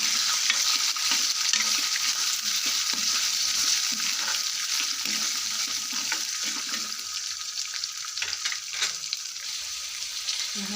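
Peas with turmeric sizzle steadily in a hot pan while being stirred, a continuous loud frying hiss with irregular scraping strokes throughout.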